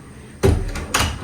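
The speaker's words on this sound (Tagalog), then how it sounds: "Sarado ko po muna itong pinto." A house door in a provincial Philippine home swings shut, giving a close thump followed by a second knock as it settles into the frame.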